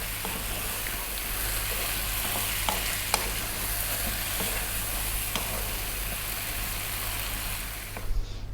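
Chicken fries in a pan over above-medium heat with constant stirring, giving a steady, soft sizzle under a low hum and occasional light scrapes and clicks.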